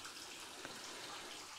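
Water trickles steadily from a natural spring at Abraham Lincoln's birthplace, a soft continuous hiss and babble heard up close outdoors without anyone speaking.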